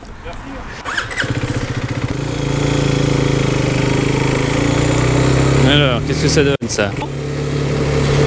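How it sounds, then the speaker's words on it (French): A 2021 F.B Mondial HPS 125 Euro 5 motorcycle engine idles and revs steadily, close by, with someone speaking briefly over it. "C'est une moto pour des petits gabarits."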